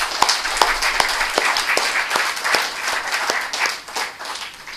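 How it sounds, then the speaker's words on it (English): An audience at a panel discussion gives a round of applause for the guests seated on the dais, steady, fairly loud clapping from many hands lasting throughout. "giving them a very good round of applause"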